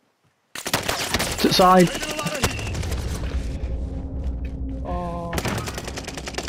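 Rapid bursts of automatic gunfire in a shooting video game, loud and dense, with a player's voice briefly speaking over it.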